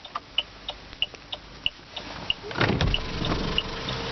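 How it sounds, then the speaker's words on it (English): In a 2008 Saab 9-3 BioPower, the automatic driver's side power window motor whirs briefly near the end, following a steady ticking of hazard-light relay clicks, all close and fairly quiet. "Automatic driver's side window."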